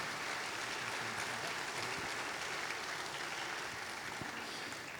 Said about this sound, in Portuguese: A vocês, uma salva de palmas por estar aqui conosco.